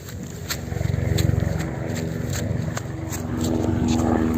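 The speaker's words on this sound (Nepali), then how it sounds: "हेलिकप्टर" A helicopter passes over a hill village during a puja, making a steady rhythmic rotor thump that grows slightly louder, with a droning engine underneath.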